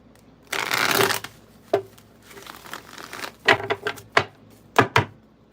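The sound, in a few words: shuffling a deck of cards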